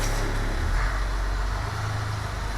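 An old school bus with an International DT466 diesel engine idles in a steady, close, heavy low rumble that holds even throughout with no talk.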